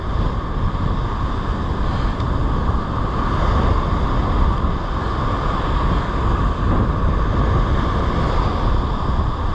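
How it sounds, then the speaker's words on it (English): Caribbean Sea waves wash onto the beach at Playa del Carmen, a constant loud rush of surf mixed with wind noise on the microphone, and no voices. "Take in these wonderful, warm, refreshing waves of the Caribbean Sea."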